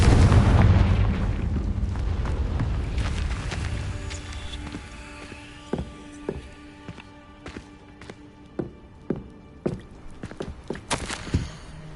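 Confringo blasting spell in the Hogwarts Legacy video game, a loud booming explosion that rumbles and fades over a few seconds, followed by scattered crackling and clattering debris impacts.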